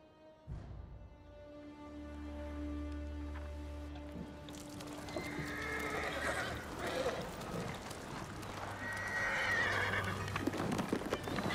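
A horse neighs in the Ghost of Tsushima game, a long whinny near the start, then clopping and snorting under a steady ambient score, with a second whinny later.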